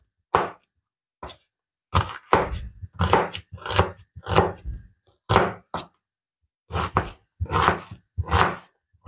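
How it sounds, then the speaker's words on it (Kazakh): A knife chops an onion into medium pieces on a board, for a pumpkin and potato filling: sharp, close thunks in irregular bursts and pairs with short quiet gaps between them. "Ол үшін алдымен пиязды турап аламыз."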